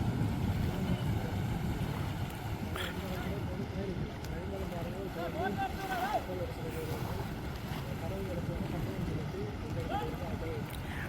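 A boat ferrying people across a river where the bridge has collapsed: a continuous droning engine and rushing wind-blown water noise, with voices talking over it throughout.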